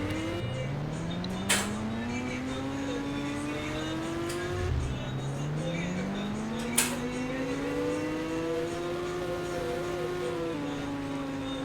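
A road vehicle's engine revs hard and speeds along, its whine climbing steadily in pitch, dropping at a gear change, then rising again, close and loud over steady wind and road noise.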